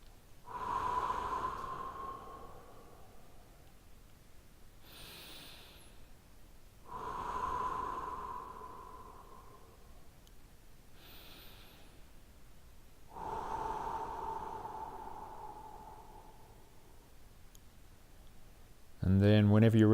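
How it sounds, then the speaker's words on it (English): Three slow, deep breaths during a guided relaxation exercise, each a long audible inhale and exhale spaced several seconds apart, close and clear, with a voice starting to speak at the very end. "And we're going to take 3 big deep breaths again."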